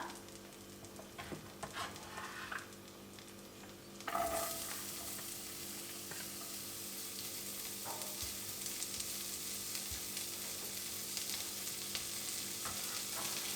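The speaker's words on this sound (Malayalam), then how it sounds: "ഇനി നമുക്കൊന്ന് സവാള ഒന്ന് സോഫ്റ്റായിട്ട് വരണവരെ ഒന്ന് അതിൻ്റെ പച്ചമണമൊക്കെ ഒന്ന് പോയിട്ട് വരണവരെ ഇങ്ങനെ മിക്സ് ചെയ്തുകൊണ്ടിരിക്കാം" Chopped medium onion frying in melted butter in a pan for pav bhaji, a steady soft sizzle with occasional scrapes and clinks from stirring, close and quiet, no talk.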